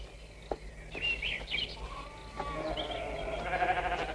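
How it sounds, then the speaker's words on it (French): Woolly ewes bleat in an outdoor pasture with several short, wavering calls at moderate distance, mixed with faint bird chirps over a low background hum. "Regardez là-bas, ce sont des brebis couvertes de laine."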